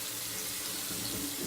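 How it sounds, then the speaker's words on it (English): Water runs from a tap in a steady, even hiss, faint and alone, for a brief moment. "get the tap hot"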